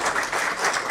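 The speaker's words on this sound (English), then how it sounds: "Big round of applause for them for this." A crowd applauds at a jewellery brand's centenary celebration and coffee table book launch, steady dense clapping filling a brief burst.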